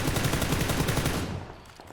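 An AR assault rifle fired from the hip without a laser sight in PUBG lets off a rapid, loud burst of automatic shots for over a second, then cuts off into a fading echo.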